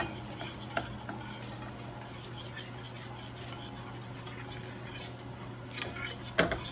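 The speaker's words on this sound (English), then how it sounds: "And now I'm just going to add 2 tablespoons of butter and whisk that in." A whisk clinks and scrapes repeatedly against a pot as butter is worked into a warm maple mixture, with light intermittent metallic taps and a few louder strikes near the end over a quiet background hum.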